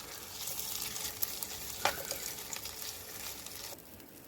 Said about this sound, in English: I throw the burgers on just as soon as this flame dies down.